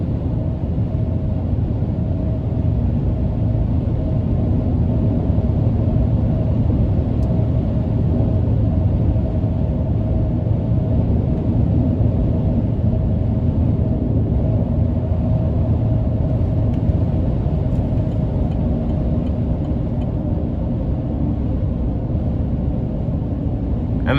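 Inside the cab of a 2022 Chevrolet Silverado 1500 LTD Custom Trail Boss with a 6.2-litre engine and off-road tires, driving on a freezing day: a constant low road rumble with a light wind hiss, steady and fairly loud, without talking.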